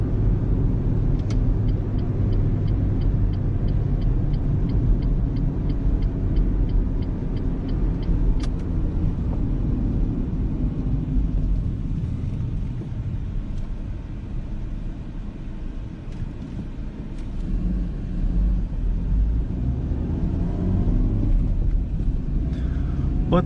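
A Renault Clio engine hums steadily with low road rumble for the whole stretch while driving, a continuous drone that dips slightly midway, no voices.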